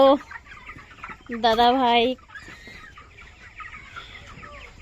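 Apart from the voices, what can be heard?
chickens clucking on a farm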